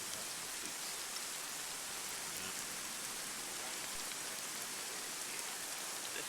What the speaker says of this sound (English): ever seen like the rain coming down in front of you?